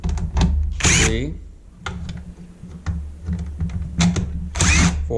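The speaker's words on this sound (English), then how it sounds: "we want to take off 1, 2, 3, 4, 5 screws" A power screwdriver backs screws out of a Brondell Cypress water filter housing in several short whirring bursts, close and loud, with a voice talking between them.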